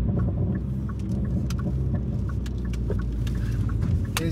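A pre-facelift Hyundai i30N Fastback drives along the road, heard from inside as a steady low engine and tyre rumble with scattered small clicks and rattles, no talking.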